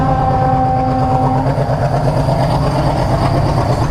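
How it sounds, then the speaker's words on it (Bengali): A diesel train engine rolls past a railway level-crossing gate, a loud continuous rumble with a steady horn-like tone at first, then rhythmic wheel clatter dominating throughout, close by with no talk. "এটা ইলেকট্রিক নয় কিন্তু ডিজেল ইঞ্জিন। দেখলে শব্দটা রে, ধুক ধুক ধুক ধুক করে।"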